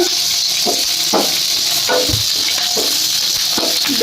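Green chillies and chana dal frying in a pan with plenty of curry leaves, for radish chutney, a loud steady sizzle broken by repeated scraping stirs at an even rhythm.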